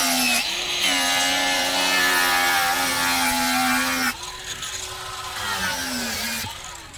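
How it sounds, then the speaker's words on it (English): Wet sanding a lightweight carbon fibre roof panel for a Ford Fiesta Mk6 race car: a steady, close buzzing tool drone runs continuously, dips briefly, then resumes with a rough abrasive hiss. "this does involve a little bit of wet sanding"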